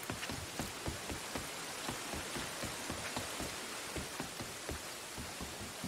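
Steady rain falls in the open-world western video game Red Dead Redemption 2, a soft continuous hiss dotted with faint drop patters, quiet and even throughout.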